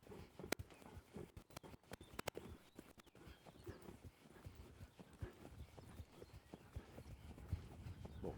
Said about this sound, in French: une détente au trot qui paraît très sobre, avec un cheval qui petit à petit s'est mis dans le mouvement